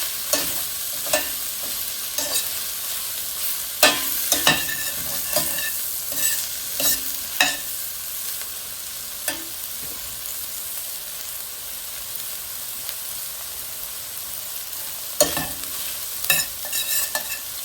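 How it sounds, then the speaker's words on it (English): Diced leftover ham frying in a pan with black pepper, red pepper flakes and oregano as a spoon stirs it, soft steady sizzle under repeated close scrapes and clinks over about eighteen seconds. "And our black pepper, red pepper flakes, and oregano. I'm going to stir that around."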